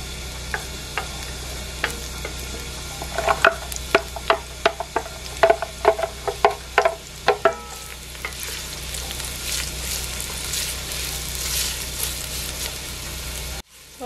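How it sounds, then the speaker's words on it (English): Onions sizzling in hot oil, with scattered pops and a few clatters of stirring, building into a steady frying hiss. "and it is starting to sizzle."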